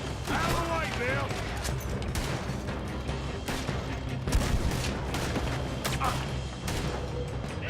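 Gunfire fills a chaotic Red Dead Redemption 2 shootout, with sharp shots and bursts cracking over dense, steady game noise while voices shout throughout.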